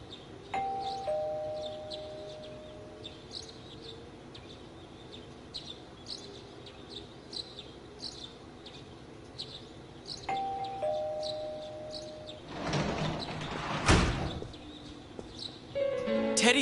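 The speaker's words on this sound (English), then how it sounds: "Doorbell." Two-tone doorbell chime ringing in the video game Persona 4 Golden, sounding twice about ten seconds apart, each time a clear ding-dong over soft game ambience, with a brief louder burst of noise near the end.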